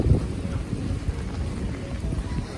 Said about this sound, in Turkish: çok kötü yağmur yağıyor, rüzgar, fırtına olmayacaktı ama her şey var bugün